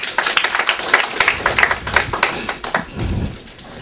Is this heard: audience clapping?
yes